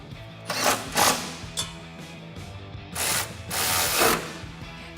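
A hand ratchet clicks in repeated bursts while driving 13mm bolts into the rear exhaust bracket of a 2015-2017 Mustang GT Fastback during a Thermal R&D cat-back install, loud and close.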